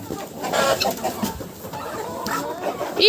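Chickens clucking close by on a village farm in winter, with a fighting rooster's agitated calls and squawks rising and falling amid scuffling, no clear speech.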